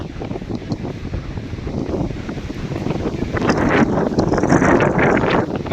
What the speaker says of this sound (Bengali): একদম এত জোরে হাওয়া হচ্ছে